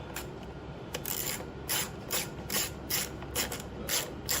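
Ratchet wrench clicking in short bursts while tightening a bolt on a Honda EU2200i generator during a propane and natural gas conversion, close and fairly quiet with no speech.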